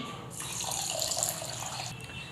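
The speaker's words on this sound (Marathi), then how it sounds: "आणि आता ह्याच्यामध्ये आपण घालणार आहोत पाणी" Water pours in a steady, splashing stream for about two seconds, close and continuous, with no voices, as it goes into lemonade being made.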